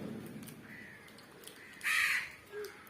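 A crow caws a few times, faint at first, then one strong, close call and a shorter one after it, against quiet background noise.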